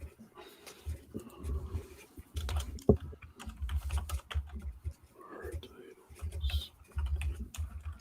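Quiet clattering of computer keyboard typing comes in irregular bursts of keystrokes during an online gameshow, with soft whispered speech and small noises between runs.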